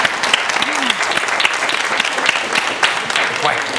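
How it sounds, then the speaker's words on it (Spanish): Audience at a talk show applauding a woman in the crowd, with steady, dense clapping from many hands and voices and exclamations mixed in over the top. "Qué bonito, un aplauso, precioso."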